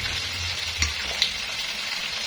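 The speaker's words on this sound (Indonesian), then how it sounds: "goreng bawang dan tomat dan lain-lain" Onions and tomatoes frying in a wok give off a steady, close sizzle with a couple of soft clinks from stirring, and no one speaks.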